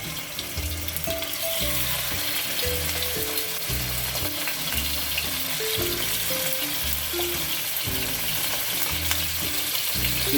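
A yellowfin fish steak fries in oil, giving a continuous close sizzle over a pulsing low hum in an even rhythm, steady and unbroken, without voices.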